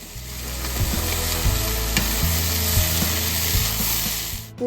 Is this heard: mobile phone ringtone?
no